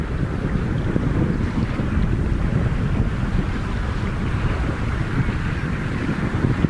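Rocket engines roar during the launch of NASA's Orion spacecraft on its historic test flight, about two minutes into ascent with first stage and port and starboard boosters at full power; a steady, dense, far-off rumble with no talk.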